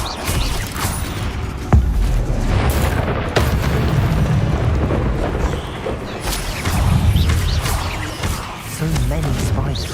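Spell impacts and magical bursts from the Hogwarts Legacy video game, with a couple of sharp cracks breaking through a dense, continuous layer of rumbling combat effects and vocal sounds.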